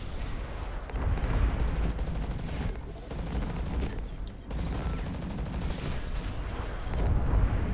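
Mech weapon fire in the video game Hawken from a Bruiser medium mech, a dense continuous barrage of rapid pulsing shots with booming low rumble, loud and steady throughout.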